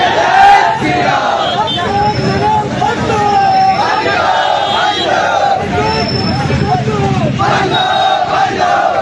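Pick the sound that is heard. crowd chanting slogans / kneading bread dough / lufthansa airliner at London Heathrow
crowd chanting slogans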